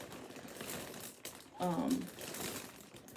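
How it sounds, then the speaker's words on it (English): Crinkling from handling cross-stitch work-in-progress materials, a soft broadband rustle running through the whole moment, with a brief voiced sound partway through. "Crinkling, crinkling, all the crinkling, I'm sorry."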